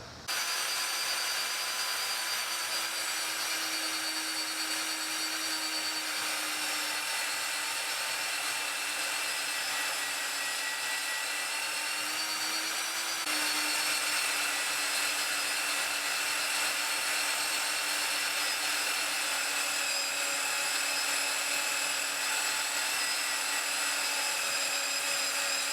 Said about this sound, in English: I'm going to start by cutting it out on the bandsaw